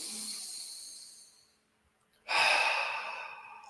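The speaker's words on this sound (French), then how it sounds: "Inspire par le nez et soupire." A breathing-practice session: a long breath drawn in through the nose fades out, followed by a brief silence and then a sudden, loud, breathy sigh released nearby.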